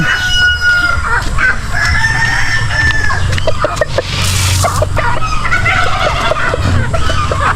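Chickens cluck steadily on a farm while a rooster crows loudly, with several birds calling close by over a continuous barnyard murmur.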